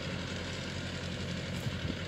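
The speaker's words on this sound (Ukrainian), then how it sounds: "Зараз ми працюємо з трактором Фотон." A Foton tractor engine runs steadily in an industrial orchard during spring herbicide spraying. It gives a continuous, even low rumble with no talking.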